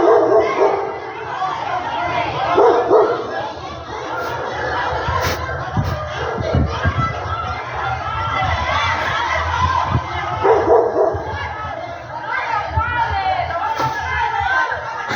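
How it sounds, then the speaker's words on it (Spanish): Dogs fighting in a street, with repeated barking and yelping mixed into the loud, agitated chatter of a crowd of people talking throughout. "Un perro, un perro estaba atacando."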